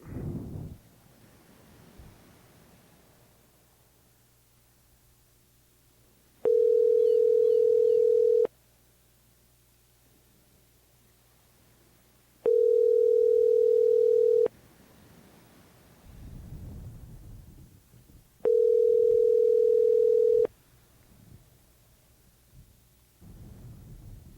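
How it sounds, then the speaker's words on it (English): A telephone line gives three identical steady tones, each about two seconds long, separated by gaps of quiet background hiss and low rumble while a call is being placed. "let's call John Webster"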